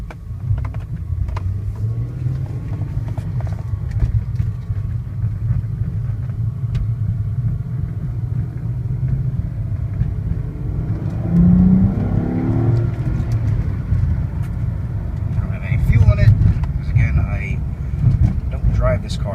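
Interior of a 1999 Ford SVT Contour on a short drive around the block: steady low engine and road rumble with mild revving swells, while someone talks over the noise.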